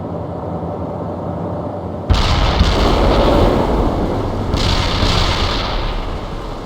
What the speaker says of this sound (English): Commence artillery fire